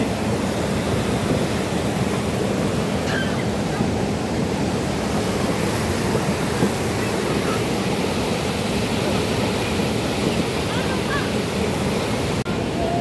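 A swollen stream in flood roars past, loud and continuous, a dense broadband rush with gusts of wind noise over it and no pause.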